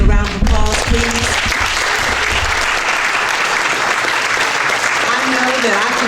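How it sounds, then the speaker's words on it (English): Loud, dense crowd applause at an evening candidates forum, continuous and steady for several seconds after a brief voice at the start. "Let's give all of them another round of applause, please."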